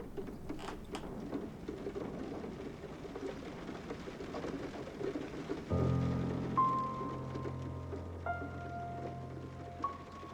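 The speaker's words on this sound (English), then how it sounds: "It's starting to rain." Steady rain falls as a soft hiss in a radio drama of George Orwell's 1984, then a low humming tone joins it midway with a few higher chiming notes.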